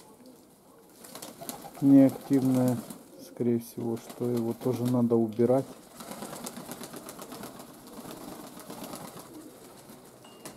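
Rock pigeons in a loft, some of them injured, coo softly close by while someone talks loudly over part of it. Quieter cooing and rustling continue afterward.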